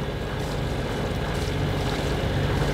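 A sailboat motoring under engine power through the Randen channel off southern Sweden, a steady low engine rumble blended with rushing water and wind buffeting close by, continuous and fairly loud, with no talking.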